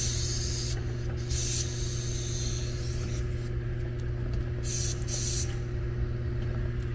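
Spray blasts grime out of a filthy air-conditioning unit found not cooling, giving a loud, steady hiss that runs the whole time with brief shifts in intensity.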